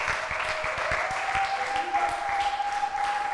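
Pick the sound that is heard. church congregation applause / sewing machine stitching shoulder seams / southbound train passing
church congregation applause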